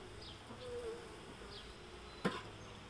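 Honey bees at an open hive make a faint, steady buzz, with a few passing individual buzzes and one brief sharp knock partway through.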